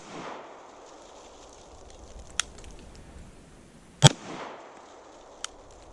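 Pistol shots from a CZ P09 handgun during a bump fire attempt: a few sharp, loud cracks spaced irregularly, with one dominant report near the middle and fainter pops before and after, over a quiet outdoor hiss.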